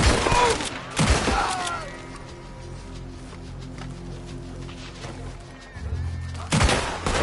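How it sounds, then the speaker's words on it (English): Gunfire in Red Dead Redemption 2, loud bursts of shots at the start and again near the end around a quieter stretch of low rumble, with a shout in the middle. "Shoot that asshole!"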